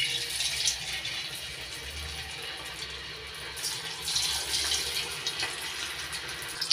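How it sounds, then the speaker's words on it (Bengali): Cornflour-coated soy chunks fry in hot oil over a high flame, giving a steady close hiss and sizzle with brief crackling bursts throughout. "এবার সয়াবিনগুলো আমি তেলের মধ্যে দিয়ে দিচ্ছি।"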